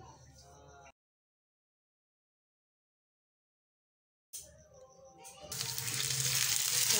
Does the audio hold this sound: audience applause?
no